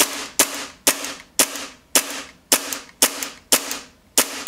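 Ten sharp snapping shots from a Tokyo Marui Hi-Capa airsoft pistol, fired at a steady, fairly quick pace, each crisp crack followed by a short decay, close and loud with no talking.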